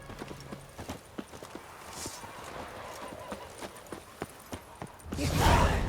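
Hooves of Roach, Geralt's horse in the video game Witcher 3, clip-clop in a steady walking rhythm at close range, with a louder rush of ambient noise near the end.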